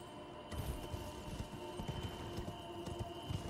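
Horse hooves from riding in the Elden Ring video game clop in a quick, uneven rhythm. The steps sound fairly faint over a steady background hum.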